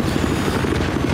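A video-game helicopter drones steadily, its rotor thumping in a loud, even pulse throughout with no talking.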